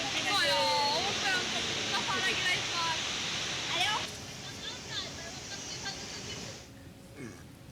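The rain-swollen Rispana River in Dehradun roars continuously in a broad, steady wash while a person talks over it, the voice fading out near the end.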